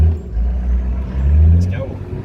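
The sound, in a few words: 4-wheel drive vehicle driving on beach sand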